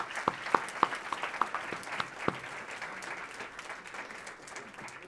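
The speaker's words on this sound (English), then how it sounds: "And another round of applause." Audience applause at a finals award ceremony, starting with a few sharp individual claps near the front and settling into moderate, fairly distant clapping from the room.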